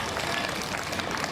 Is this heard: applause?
yes